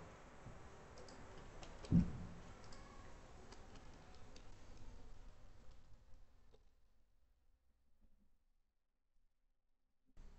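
Faint, sparse computer mouse clicks tick through quiet room noise while a sign-in form is filled in on a website, with one sharper click near the start and a few more before the background drops to near silence.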